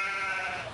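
A baby goat gives a single short bleat, near and fairly loud, with no talking over it.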